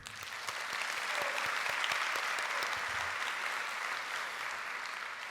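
Sustained audience applause at a diploma ceremony honoring graduating students, a dense steady wash of many hands clapping at even loudness throughout, with scattered sharper claps near the front.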